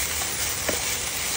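Maggi noodles sizzle in hot oil in a pan, a steady broadband hiss that holds evenly throughout, with one brief soft clatter midway.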